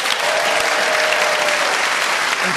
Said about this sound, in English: So another round of applause for our winners